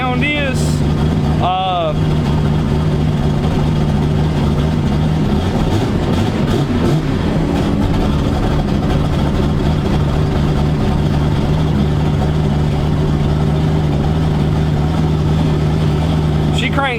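Car engine idling steadily with a low, continuous drone after its starter was swapped, loud and constant throughout, with brief whistling tones near the start and muffled talk in the background.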